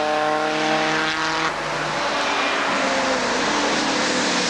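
A Ford Escort race car roars past at full throttle on a circuit, its loud engine note dropping in pitch as it passes close by and then fading into a continuous rumble of other cars.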